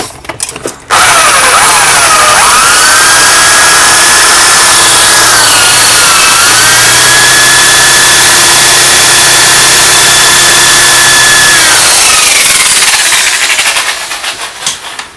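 A STIHL 180 chainsaw runs loud and steady at high revs for about eleven seconds during an oil pump test, starting abruptly and tapering off near the end, with no talk.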